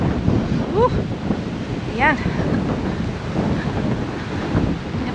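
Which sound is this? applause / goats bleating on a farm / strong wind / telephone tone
strong wind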